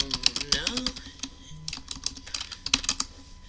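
Fast, uneven clicks of typing on a computer keyboard, close and fairly crisp, with short pauses between bursts of keystrokes.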